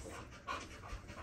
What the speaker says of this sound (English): And so that's those puppies right there.